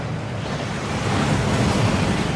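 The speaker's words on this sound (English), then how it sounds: "That waterfall washes away all enchantments." A rushing waterfall roars in Hogwarts Legacy, a dense, steady wash of water noise that swells slightly louder midway, with no voices.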